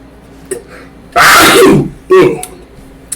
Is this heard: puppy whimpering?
no